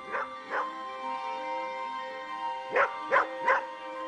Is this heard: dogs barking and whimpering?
yes